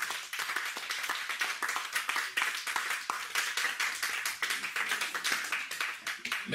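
A church congregation claps together in praise, producing dense, continuous rhythmic hand claps at a steady pace that stay loud and lively throughout, with no talking over them.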